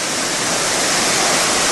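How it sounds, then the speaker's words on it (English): A giant cascading waterfall beside a beach, its steady full roar close and loud, unbroken and with no voices over it. "Sat next to a giant cascading waterfall in a deck chair on a beach"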